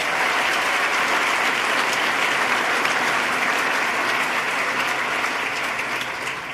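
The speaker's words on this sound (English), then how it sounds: "Let's give him a round of applause." Sustained applause from a large audience at the New York State of the State address in 2014, a dense, steady wash of clapping that fills the whole stretch with no pauses.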